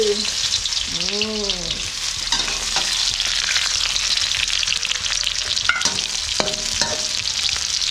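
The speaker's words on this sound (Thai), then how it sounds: "พักพริกไว้ก่อนหอมแดงทอดไปเลย" Shallots deep-frying in hot oil for a Thai sweet fish sauce dip, a steady loud sizzle running throughout with occasional stirring scrapes and clinks close by.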